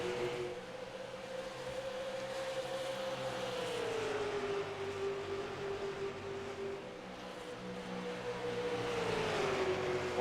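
Race car engines roar at Dover Motor Speedway, a continuous loud drone with one engine held high near its rev limiter and a slowly shifting pitch as cars run the oval, with no talk.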